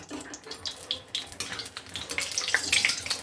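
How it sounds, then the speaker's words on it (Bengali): Chillies fry in hot oil in a pan with a close, crackling sizzle full of irregular pops and spits that grow busier toward the end, no voices. "লঙ্কাটা ভেজে তুলে রাখছি, লঙ্কা ভাজা হয়ে গেছে"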